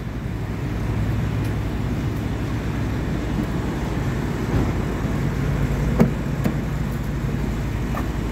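Steady low road rumble and muffled drivetrain hum inside a moving VW Jetta, a constant broadband wash with a couple of faint knocks, no talking.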